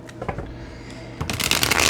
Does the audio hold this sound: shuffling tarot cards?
yes